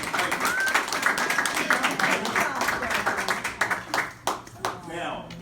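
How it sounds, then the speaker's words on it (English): Applause at a retirement party for a longtime nurse, a crowd clapping steadily with cheers and voices mixed in, fairly loud and tapering near the end. "So if we would all give her a little applause."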